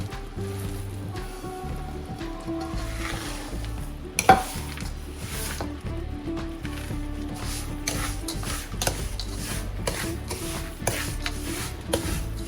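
Chopped almonds and pistachios stirred into semolina cooking in a pan, giving a continuous gentle scraping and soft sizzle with a sharp utensil knock partway through, steady and near.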